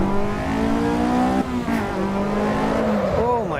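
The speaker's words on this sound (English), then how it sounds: "that's just me upshifting" A race car in Assetto Corsa EVO revs hard, then its engine pitch drops sharply on an upshift and climbs again. The loud, steady whine ends in a brief squeal of tires.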